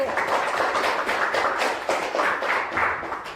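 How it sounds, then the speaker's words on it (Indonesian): A classroom audience claps for a group that has just finished its presentation, giving a few seconds of brisk, rhythmic, fairly loud hand-clapping with no talking. "Tepuk tangan untuk kelompok 1"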